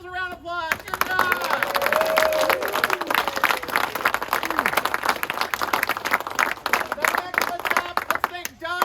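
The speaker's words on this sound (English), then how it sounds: "give yourselves a round of applause" People at an awards ceremony for a car rally clap for themselves in a brisk, lively burst, with voices and cheers running through it and a few whoops at the start and end.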